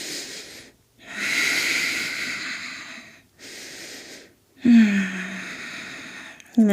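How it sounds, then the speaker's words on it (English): Heavy, loud breathing during a vinyasa yoga class, in long drawn inhales and exhales separated by short pauses, close and alone, with a brief vocal strain near the end. "Heavy breathing."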